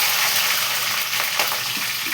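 Green chillies fry in a pan with a loud, steady sizzle that spatters throughout, with faint stirring scrapes near the end and no talking.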